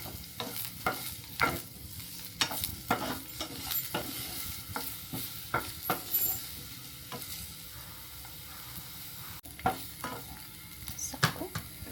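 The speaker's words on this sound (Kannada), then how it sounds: "ನೀವು ಚಾಪ್ ಮಾಡಿಟ್ಕೊಂಡಿರೋ ಈರುಳ್ಳಿನ ಆ್ಯಡ್ ಮಾಡ್ಕೊಳ್ಳಿ, ಅದನ್ನು ಸಾಟೆ ಮಾಡ್ಕೊಳ್ಳಿ." Chopped onions sautéing in a pan for a beetroot soup, with steady sizzling broken by repeated sharp stirring scrapes and clatters of a spoon, close up and without talk.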